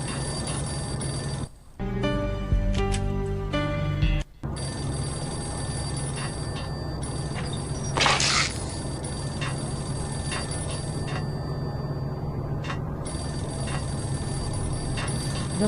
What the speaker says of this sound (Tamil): ஃபோன் சவுண்ட் கேக்குது.